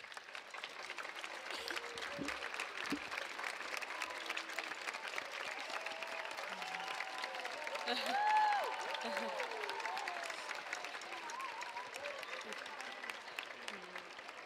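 Applause for a body percussion performer at a live concert in La Vall d'Alba, a steady crowd clapping somewhat distant and soft, swelling briefly midway, with faint voices and whistles mixed in.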